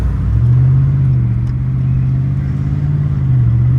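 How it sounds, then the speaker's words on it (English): A Ram Rebel pickup truck engine drones steadily from inside the cab while driving, a low, smooth hum that rises slightly in pitch as it accelerates and then settles, loud and continuous with no voices. "It's a very smooth running truck."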